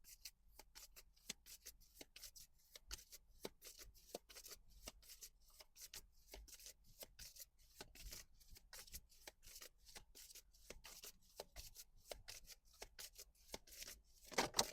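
A deck of tarot cards is shuffled by hand for a reading, making a long run of soft, quick riffling snaps and rustles, steady and close but fairly quiet, with no talking.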